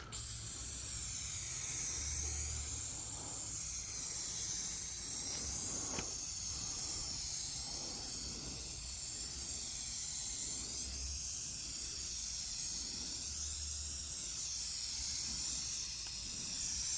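Clear finish sprayed in coats onto a wavy wooden American flag build: a steady, faint airy hiss running continuously, with a few soft low thumps underneath and no talking.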